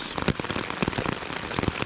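Heavy rain patters on a tarp shelter at a stealth campsite, a dense, close drumming of irregular drops with no talking.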